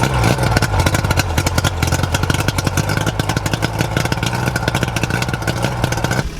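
A small boat engine running close and loud with a rapid, uneven putter and mechanical clatter, holding a steady idle.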